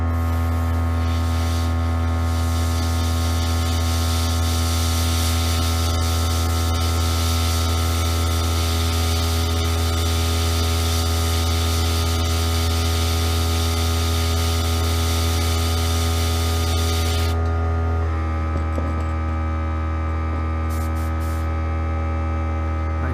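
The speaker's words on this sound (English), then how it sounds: "we're going to do the other side while that compressor's going" An air compressor runs steadily while a fishing bait such as a Whopper Plopper is spray-painted, giving a continuous droning hum with a faint hiss that shifts and quiets slightly near the end.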